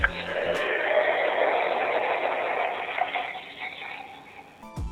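A Pepsi-branded stainless steel Bluetooth speaker's power-off sound effect gives a steady, close fizzing hiss that lasts several seconds and then fades, with no talk over it.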